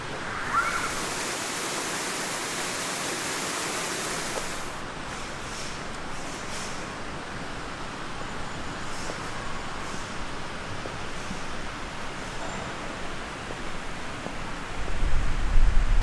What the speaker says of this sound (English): the double waterfall that they have going underneath the gym